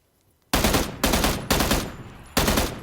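Gunfire in PUBG, four loud close shots or short bursts, each a sharp crack with a decaying tail, the first three evenly spaced and the last after a slightly longer pause, with no talk.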